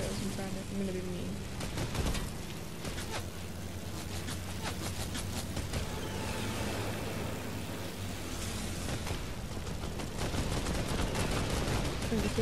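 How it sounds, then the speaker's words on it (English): In a Fortnite match, rapid gunfire is aimed at another player: bursts of sharp shots crackle repeatedly through the whole stretch over a dense game backdrop of engine and ambient noise. "I'm gonna shoot him and it's just because I'm trying to"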